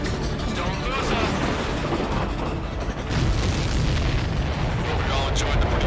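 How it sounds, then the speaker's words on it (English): A missile explosion in the combat flight game Ace Combat 7 booms and roars as a dense, loud rumble that fills the whole stretch without a break. "Everybody, keep a safe distance to avoid getting caught in the explosion."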